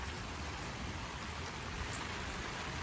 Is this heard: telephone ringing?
no